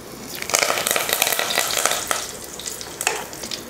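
Fenugreek seeds frying in hot oil for a fish curry, a steady close sizzle with dense crackling pops and spluttering throughout, fairly loud with no voices.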